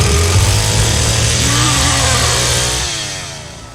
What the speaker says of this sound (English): The chainsaw from the Texas Chain Saw Massacre is as much a character as Leatherface